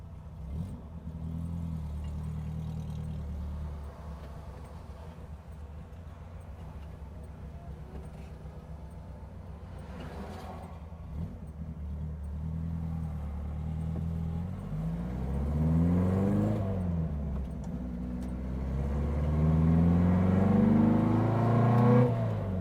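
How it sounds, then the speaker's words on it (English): A 1960 Porsche 356 Abarth tribute car drives on the road, its engine heard from inside. It revs up through the gears in rising sweeps, pulling strongly and loudest toward the end. "As you can tell, the car's got a great sound."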